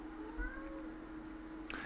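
A cat meows faintly in a room, a short drawn-out call heard softly over a steady background hum, with a brief click near the end.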